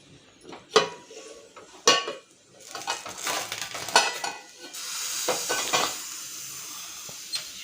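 Crispy potato slices sizzling in a pan as they are tossed and stirred from the bottom, with scraping and clattering of a utensil against the pan coming in bursts and a steady frying hiss building toward the end.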